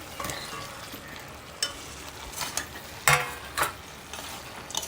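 Fried potato and pointed gourd tossed in spice paste, with prawns, in a pan: a soft low sizzle runs throughout, broken by a few sharp scraping stirs of a spatula against the metal.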